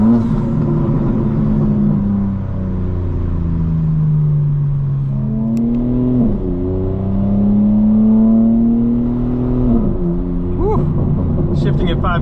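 A 2025 BMW M4 Competition xDrive engine drones heard from inside the car, its pitch rising steadily through the revs and dropping at each of two upshifts, loud and continuous.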